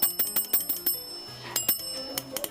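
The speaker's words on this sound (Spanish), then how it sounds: "un modelo hecho en Estocolmo en 1982, hecho de baquelita y hierro, cuyo ringtone lo producían estas campanillas." An antique Ericsson telephone made in Stockholm from Bakelite and iron rings its small metal bells in quick bursts of bright, trilling strikes, several short rings in a row, close by and with no voices.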